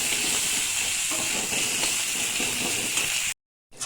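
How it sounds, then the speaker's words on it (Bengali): Tomato stirred in hot oil for doi potol sizzles with a loud, steady, close hiss that cuts off abruptly near the end. "টমেটোটা একটু তেলের মধ্যে নাড়িয়ে নেব।"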